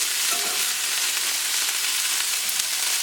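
Shallots, carrots and bell pepper sizzle steadily in a hot pan as pasta garnish, a continuous close frying hiss with occasional soft stirring scrapes and no talking.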